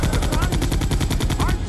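Rapid automatic gunfire bursts in the game Resident Evil 2, a dense, loud volley of closely spaced shots running the whole moment with no pause.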